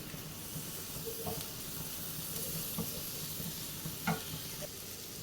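Tomato being sautéed in spiced masala in a pan for a jackfruit chicken biryani, a steady low sizzle with a few soft scraping stirs of a spoon, close and continuous with no talk.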